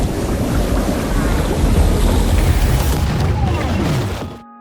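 A film explosion roars as a building burns: a loud, sustained low rumble with crackling debris and wind-like noise for about four seconds, then cutting off abruptly.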